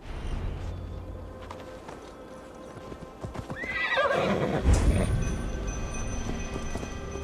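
A horse in the Assassin's Creed Valhalla video game, ridden through a forest in Gloucestershire, clops its hooves in a steady rhythm and lets out a loud neigh midway, close by, with faint buzzing insects in the background.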